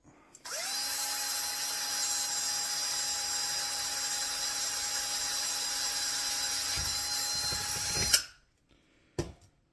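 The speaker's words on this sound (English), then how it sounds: "So we'll just drill that out." A power drill whines steadily at high speed for several seconds, drilling a hole through a metal jewelry pendant, then winds down abruptly, followed by a short clank.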